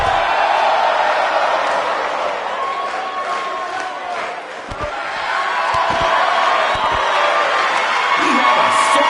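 An arena crowd in the WWE 2K19 wrestling video game cheers and roars loudly and without a break, with dull thuds from the ring under the din.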